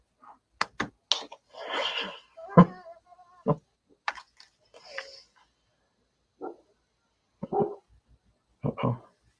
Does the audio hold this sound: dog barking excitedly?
yes